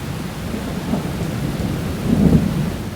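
A heavy thunderstorm with pouring rain roars steadily, with low rumbles of thunder swelling and a louder peak toward the end, no voices present.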